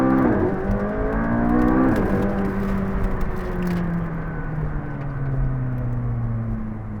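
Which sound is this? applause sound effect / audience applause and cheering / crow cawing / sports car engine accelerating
sports car engine accelerating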